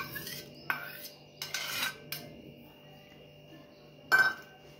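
Semolina and curd are mixed in a metal pot for instant rava uttapam batter, with a spoon scraping and clinking against the pot in short, separate bursts and quiet pauses between them.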